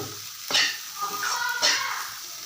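Rice flour tamarind upma being stirred and broken up in a pan, with a couple of louder scraping strokes and a soft continuous sizzle between them.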